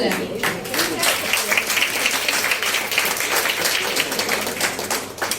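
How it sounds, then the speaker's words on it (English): Audience applause for debate competition participants at a stage ceremony, loud continuous clapping from a crowd filling the whole stretch. "A big round of applause to them."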